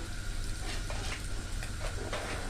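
Kashmiri chili powder and potatoes frying in oil in a pan, a steady soft sizzle with faint stirring scrapes running throughout, close and even in level.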